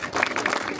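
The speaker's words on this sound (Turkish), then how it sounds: "Alkış." Brief burst of clapping from a gathering at a mosque's Ramadan holiday program, a quick patter of hands heard close for under a second.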